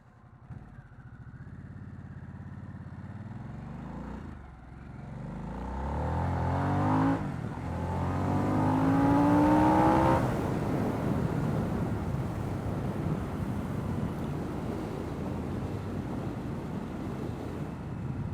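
Harley-Davidson Sportster S motorcycle under way, its engine note rising through the gears with climbing tones, then settling into a broad roar buried in heavy wind buffeting on the microphone.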